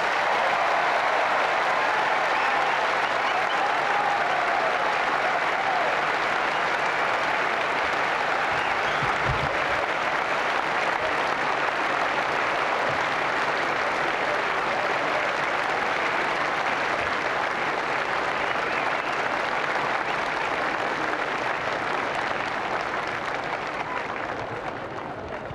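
Sustained applause from a large audience at a Golkar party anniversary reception in a convention hall, a dense, steady wash of clapping that carries on without a break for nearly half a minute before easing off slightly at the end.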